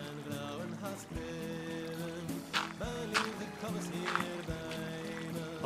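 Flowing, trickling water in Minecraft gurgles steadily under tonal background music, with soft clicks and splashes throughout.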